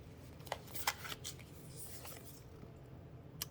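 Oracle cards being shuffled by hand, a few quick papery riffles and flicks in a quiet room, soft and close with brief bursts spread across a few seconds.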